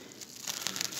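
A sack is peeled off beehive frames at a forest apiary, giving a close, continuous crinkling and tearing rustle that grows slightly louder partway through.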